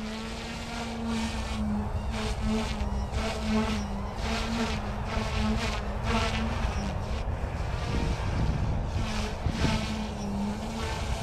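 Goosky S1 RC helicopter flying nearby, a steady buzzing whine from its rotor and motor that holds fairly even for several seconds with slight pitch shifts.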